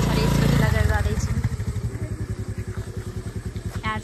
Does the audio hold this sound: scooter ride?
yes